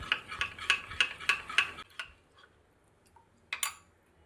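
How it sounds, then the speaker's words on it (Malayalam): Cornflour, rice flour and water being stirred in a bowl, a run of regular spoon clinks and scrapes, close and crisp, followed by a pause and a couple of final taps. "ഇതിലേക്ക് 1/4 കപ്പ് വെള്ളവും കൂടി ഒഴിച്ച് കൊടുത്തിട്ട് നന്നായിട്ട് ഇതിനെ മിക്സാക്കി എടുക്കുക, കട്ടയൊന്നും ഇല്ലാത്ത രീതിയിൽ"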